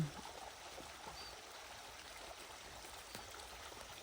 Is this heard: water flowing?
yes